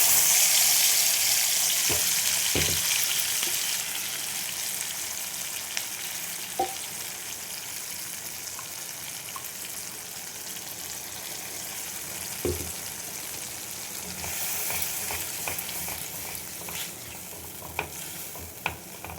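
Spice paste sizzles and fries in a hot pan for an egg curry, with a steady crackling hiss and occasional scraping stirs and clinks of a spatula, close and continuous without talk.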